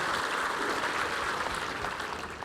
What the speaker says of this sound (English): given him a big cheer and a big clap there